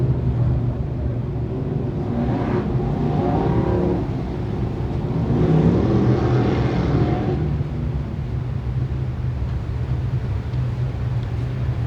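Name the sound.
dirt modified race cars heading trackside for heat race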